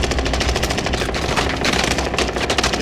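Rapid machine gun fire from a PPSh in a video game, dense bursts of rattling shots close and loud throughout, with no talk.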